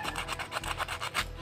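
Sandpaper rubbing back and forth over a homemade wooden fishing lure, a steady close rasping rhythm of quick strokes with no talk.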